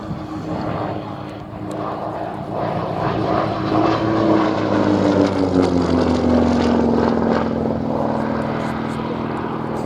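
A propeller trainer aircraft that first flew in 1950, flying at the Shuttleworth airshow: a loud, sustained engine drone that swells and then slides lower in pitch as it passes overhead.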